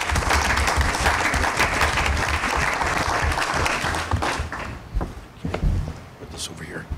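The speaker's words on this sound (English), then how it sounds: "can I get a round of applause for our board members?" Loud audience applause for board members at a community meeting, dense steady clapping that fades after about four seconds into scattered claps, shuffling and a few voices.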